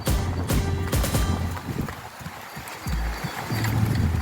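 An Andalusian PRE horse trots at a horse show, its hooves giving a clear, rhythmic clip-clop of sharp beats with a brief lull midway before the steady footfalls resume.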